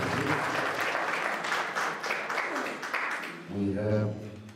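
Audience applause at a government committee gathering, a few seconds of steady clapping before a voice starts speaking over the tail end.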